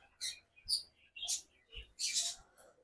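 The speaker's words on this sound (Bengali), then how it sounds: "ম্যাক্সিমাম পাখি হচ্ছে এই দেখেন আমার আউল ফিঞ্চ, ওই যে আউল ফিঞ্চ আছে, লং টেল ফিঞ্চ আছে" Pet finches, including owl finches and long-tailed finches, give short high chirps in separate bursts, about five calls spaced irregularly, faint and fairly close, with no speech.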